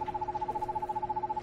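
A bird hooting like an owl in the game Perception, a steady, rapidly pulsing tremolo hoot held continuously at moderate volume against a quiet background.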